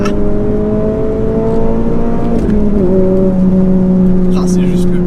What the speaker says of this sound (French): Ce moteur, ce bruit.